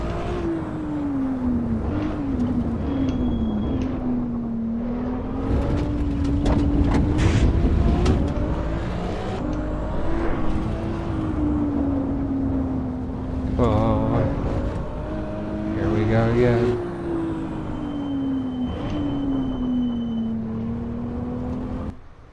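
Ferrari engine from a racing game, a steady mid-pitched drone that rises and falls with the throttle across the lap. Short revving surges come through with brief shifts, and a voice talks occasionally over it.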